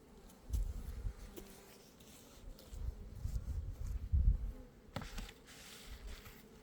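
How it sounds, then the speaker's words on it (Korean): Honeybees from a strong swarm that moved into a hive buzz continuously and close during a hive inspection, with occasional soft thumps and rustles. "요거는 제 공장의 분봉 들어온 벌이에요."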